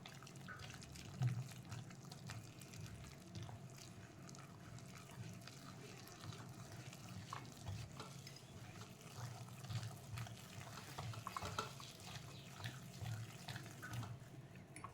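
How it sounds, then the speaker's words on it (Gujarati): Water poured steadily into a flour mix while making cauliflower pakoda batter, a continuous soft trickling and splashing that runs the whole time at low, even level with no talk. "હવે પાણી રેડતું જવાનું અને એનો ગોળ તૈયાર કરી દેવાનો."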